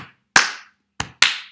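Three sharp hand claps, loud and close, with an uneven gap between the first and the last two, no voices.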